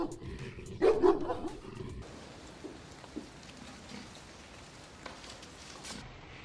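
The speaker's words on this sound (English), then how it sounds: "Our dogs erupted in excited barks, racing straight to the spot where it fell." Hunting dogs at a wild boar hunt give a short burst of excited barking and yelping, fairly distant, followed by quieter scattered yips over outdoor background noise.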